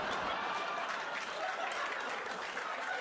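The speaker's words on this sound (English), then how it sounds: "Applause break on a joke I've never said before on my special" Dense, sustained applause from a stand-up comedy audience at a 2007 show, steady and close throughout with faint chuckles mixed into the clapping.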